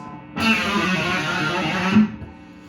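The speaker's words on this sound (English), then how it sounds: "you're just going to kind of gradually press that bar down while doing that hammer-on" A distorted electric guitar rings out in a sustained, wavering phrase, a hammer-on and pull-off with the tremolo bar gradually pressed down so the pitch dips and bends, ending with a final accented note before fading.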